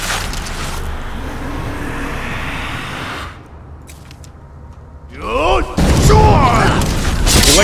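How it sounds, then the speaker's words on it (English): A roaring, crackling blast of dragon fire breath in a fantasy video game battle against the Wolf Queen, loud and broadband, surging up after a quieter stretch, with a voice talking over parts of it. "You like my fire breath?"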